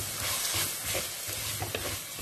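A quarter teaspoon of garam masala powder stirred into a frying mixture for a prawn semiya pulao, with a steady sizzle and scraping spoon strokes against the pan, close and continuous with no talking.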